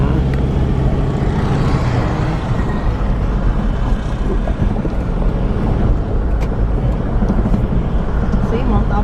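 A car drives along a road near Digos City in Davao del Sur, Philippines, a steady loud engine and road rumble with wind noise inside the cabin, while people talk over it.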